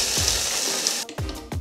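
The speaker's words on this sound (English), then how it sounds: "I'm gonna throw a decent handful, because I want this to be pretty coated, into my small little ninja blender" A small Ninja blender grinds a handful of Hot Cheetos into powder with a steady, loud whirring roar for about a second, then cuts off into a couple of short bursts.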